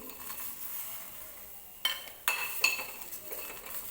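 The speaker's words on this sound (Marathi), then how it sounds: "कढई छान गरम होऊ द्यायची आहे आपल्याला आणि नंतर ह्याच्यामध्ये मी मिरच्या टाकते" Green chillies dry-roasting without oil in a hot kadhai, a soft steady sizzle with a few sharp clinks and scrapes of a utensil against the pan, close by and with no talk.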